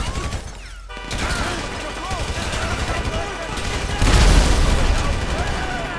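Gunshots in GTA 5, a rapid run of sharp shots and bursts with a heavier blast near the end, mixed with game voices and background noise.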